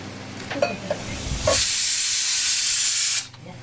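A loud, steady hiss of onions hitting a hot pan, sizzling for a couple of seconds after some clinking, then cutting off abruptly.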